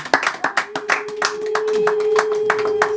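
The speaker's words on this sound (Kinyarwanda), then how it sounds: "amashyi n'impundu" Guests at a Rwandan wedding clap in a quick, rhythmic beat while a sustained high ululating cry rises in and holds steady beneath the clapping.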